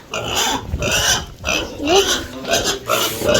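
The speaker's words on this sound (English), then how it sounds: "So guys, see, this is a pig." A sow with piglets on a village pig farm in Kenya grunts in repeated short, rough bursts, fairly close, while someone talks over the sounds.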